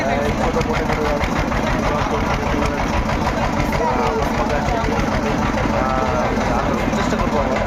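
A small boat's engine runs steadily and close by on a trip out toward a larger ship in the Sundarbans at Dublar Char, a constant dense chugging drone under faint voices.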